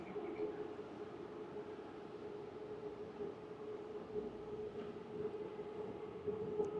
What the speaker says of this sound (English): As you can hear in the background, that is the SkyTrain. It's in the street right behind this, bordering.